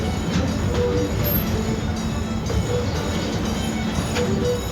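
An amusement park train ride at Busch Gardens Williamsburg, heard from on board as a loud continuous rumble of wheels on track with faint rattles and squeaks.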